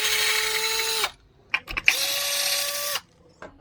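A power drill spins out pedal hanger screws in two sustained whirring bursts, each winding down, separated by brief clicks and handling knocks.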